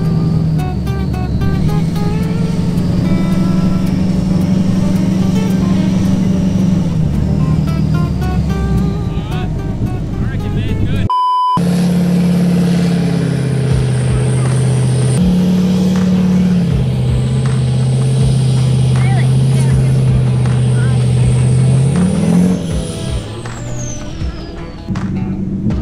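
A Duramax ute tows a trailer through soft sand on Fraser Island, its engine droning steadily and loud throughout with shifting pitch as it labours, under constant vehicle noise.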